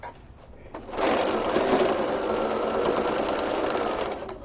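Sewing machine fitted with a walking foot stitching across open seams on a holiday bench pillow cover, a steady close whirring run that starts after a second and holds for about three seconds.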